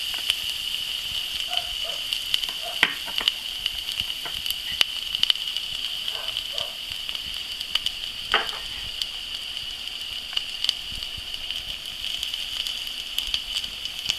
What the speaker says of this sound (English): I'm just going to throw in some sliced garlic, get that kind of moving around there